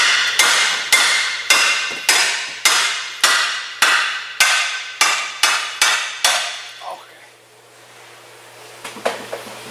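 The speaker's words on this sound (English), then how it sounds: "Now we can hammer this down." Hammer blows drive down the lower ball joint on a 2007-2012 Hyundai Santa Fe CM suspension arm, about a dozen loud, evenly spaced metallic strikes, then quieter clinks and handling noises.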